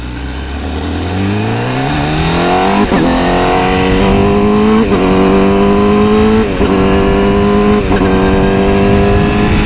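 A Honda CBR1000RR-RSP sport bike accelerates hard and close, its engine note climbing steadily through several quick-shifted gear changes marked by brief dips in pitch, loud and continuous with no talking.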